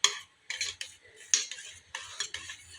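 A spoon stirs an ice cream mixture in a bowl, making a series of close, regular scraping and clinking strokes about every half second.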